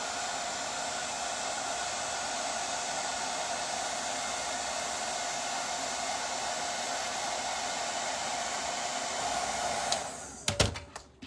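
A hair dryer blows with a constant loud whirring hiss for several seconds, then clicks off with a few clunks at the end.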